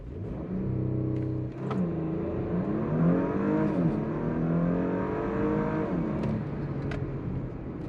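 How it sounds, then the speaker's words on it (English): A 2021 Porsche Macan S launches at full throttle from a brake-held start. Its engine holds a steady high-rev drone, then surges and climbs through rising gears, loud and close from inside the cabin. "I'm gonna do a quick launch, press hard on the brake, traction off, and floor it."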